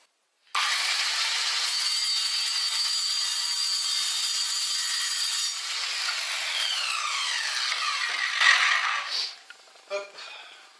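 An Evolution R185 circular saw on a guide rail cuts 5 mm flat steel, a loud continuous high metallic whine and grind for about eight seconds, then spinning down with a few brief rattles as the cut finishes.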